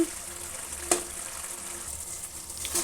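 Potato and tomato curry simmering in a pan on the flame, giving a steady, close bubbling hiss with one brief clink near the start and no talking.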